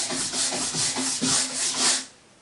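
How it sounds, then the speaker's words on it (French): A bronze brush scrubs a ski base during waxing and tuning with a Vola care kit, making about six rhythmic, close, raspy back-and-forth strokes that end abruptly. "on va utiliser la brosse bronze pour bien nettoyer la semelle"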